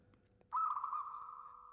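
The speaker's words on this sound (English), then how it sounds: "Listen to this bird." A single bird gives a loud, sustained call that starts abruptly and holds steady for over a second, standing out clearly against faint background noise.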